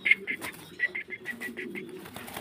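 Pigeons sounding in a loft, with repeated short bird calls over a low murmuring coo-like rumble, close and moderately quiet; an Italian Owl pigeon is among the birds.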